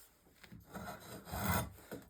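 A Pfeil drawknife shaving wood with its bevel riding the surface, cutting poorly at a steep angle: a close, rough rasping scrape that swells through one long stroke and then fades, with no voices.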